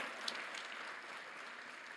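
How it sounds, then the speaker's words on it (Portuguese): A church congregation applauds during a sermon, with faint, distant, even clapping that holds steady as a soft wash of sound for about two seconds. "aplauda o Senhor"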